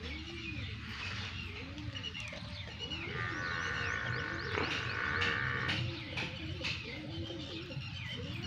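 Pigeons coo in rounded, repeated throaty calls, several birds overlapping close by against a soft background murmur.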